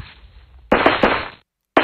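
Gunfire in the Raft Wars video game: a sudden loud blast with quick crackling pops that cuts off to silence before another blast begins, with no talk.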